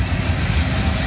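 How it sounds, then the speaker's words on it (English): A loaded coal train headed for North Carolina passes through Abbeville, giving a steady, close, deep rumble that holds even throughout with no talking. "Loaded coal train going to North Carolina."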